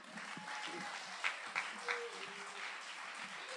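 Audience clapping at a live poetry party, a moderate wash of applause with a few louder individual claps standing out, plus faint voices and whoops underneath.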